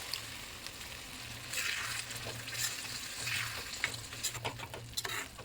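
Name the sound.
tamarind gravy boiling in pan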